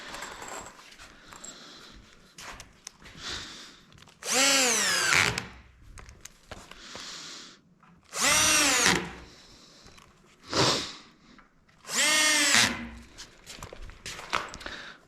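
A power drill bores into porch swing wood in three or four loud, close bursts that rise in pitch. Quieter handling and tool clatter fill the pauses between bursts.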